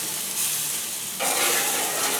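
A burger patty fries in a hot pan, giving a steady bright sizzle that jumps louder about halfway through and then holds, close and continuous with no talking.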